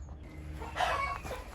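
A chicken clucks briefly over a low outdoor rumble, a short call rising for a moment before fading.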